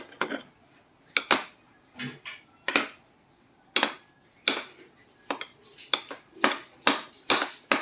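Peeled salted duck eggs (itlog maalat) are crushed in a bowl, with a dozen or so sharp, close metallic clacks of a utensil striking the dish in an irregular rhythm, separated by short silences.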